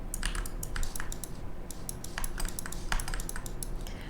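Mouse and keyboard clicks come in scattered bursts while someone navigates a computer program, sharp close taps with short pauses between clusters and no talking.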